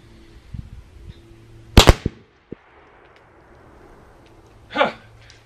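Muzzleloader rifle loaded with 50 grains of powder and a 245 grain bullet fires a sharp outdoor shot that sounds doubled, followed by a few faint thumps and a later muffled pop.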